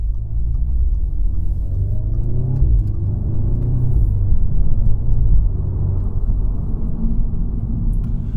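A 2016 Audi S3 driven on the road, its engine a deep, loud rumble from inside the cabin, pitch climbing as it accelerates through a gear, then dipping and climbing again around a shift.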